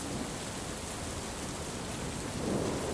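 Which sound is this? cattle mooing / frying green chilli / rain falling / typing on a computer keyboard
rain falling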